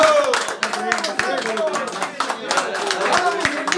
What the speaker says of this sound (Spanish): con un fuerte aplauso a cada zapito por recibirnos